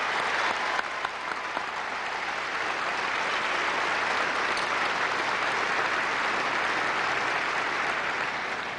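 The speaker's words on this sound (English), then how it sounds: "let's have another round of applause for them" A large commencement crowd applauds graduates of the class of 2002 with a sustained, dense, even roar of clapping that holds at full volume without a break.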